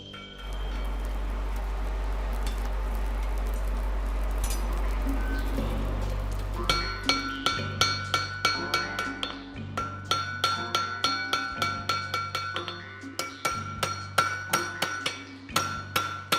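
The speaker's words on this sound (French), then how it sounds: "Les 2 derniers coups de marteau." A blacksmith hammers iron at a forge: a low roar fills the first seconds, then a series of sharp, ringing metallic blows lands in a steady rhythm, close and loud, with no voices.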